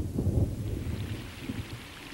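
A thunderstorm with heavy rain in northern Australia during the wet season gives a deep, rolling rumble over a dense hiss of rainfall, steady and enveloping, without voices.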